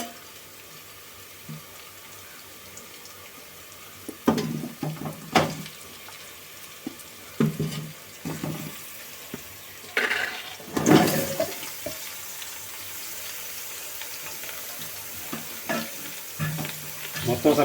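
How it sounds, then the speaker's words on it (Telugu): Bottle gourd pieces for a village-style pulusu fry and get stirred in a pan, with a steady sizzle and bursts of scraping and stirring that grow busier midway, some splashy, watery clatter mixed in. "ఇప్పుడు ఆనపకాయ ముక్కలు వేసుకున్నామండి."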